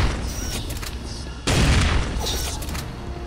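Gunfire from soldiers in the video game Dreamkiller: a dense, loud burst of shots and booms that jumps up sharply midway and continues, with game noise beneath and no clear speech.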